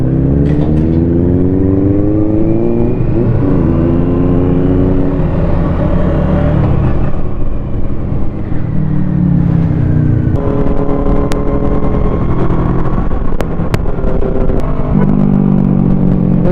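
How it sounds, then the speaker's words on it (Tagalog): A Kawasaki Versys motorcycle with an open-pipe exhaust runs close and loud, its engine note rising and falling through revs and gear changes in a continuous throaty drone; no talking. "Ganun pala kapag naka-open pipe ang Versys."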